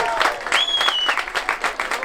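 Applause for an under-11 football team that finished second at a youth tournament in Foix, mixed with cheering and a high whistle over a busy crowd, with a voice speaking over it.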